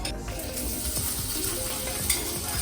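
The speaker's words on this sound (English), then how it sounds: "Look at her sizzle." Taco filling sizzles and crackles steadily in a hot pan, close up, with a faint scrape of a spoon near the end.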